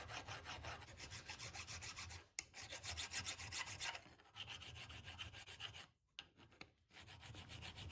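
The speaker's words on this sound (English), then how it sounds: "I gradually file away material very gently each side, a bit at a time, until the screwdriver slot starts to materialise in the centre." Hand file rasping at a small metal carburettor mixture screw for a Honda ST1100, cutting a screwdriver slot; close, quiet, rhythmic strokes with short pauses between passes.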